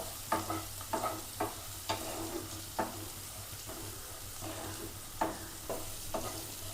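Bitter gourd (karela) lightly frying in a pan, a steady low sizzle broken by repeated sharp stirring scrapes and clinks at irregular intervals, close and moderately quiet with no talk.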